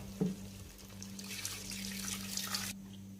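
Water from a glass poured into a pot of browned mutton for curry, a short splash at the start followed by a steady trickling pour that stops abruptly near the end, over a low kitchen hum.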